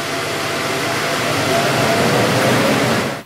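Laser cutter extract fan running, a loud continuous airy rush of broadband noise that stays steady for a few seconds before cutting off abruptly at the end.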